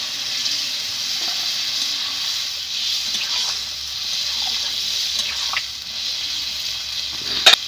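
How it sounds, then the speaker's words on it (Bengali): Water poured into a hot pan of fried prawns, a steady watery hiss and gush running throughout, with a sharp splash near the end; no talk. "এবারে জল দিয়ে দিব।"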